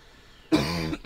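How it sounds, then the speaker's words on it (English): After a quiet moment, one person gives a single rough, throaty cough close by. "You're coughing because your throat's dry?"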